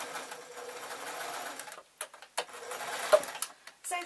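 A domestic sewing machine stitches a lined grab bag with interfacing, whirring in a steady close run before stopping and restarting in short bursts.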